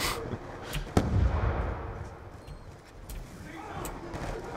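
A concussion grenade detonates in Black Ops 2 with a single sharp, loud blast near the start, followed by rumbling battlefield noise and gunfire, while a player's voice is present.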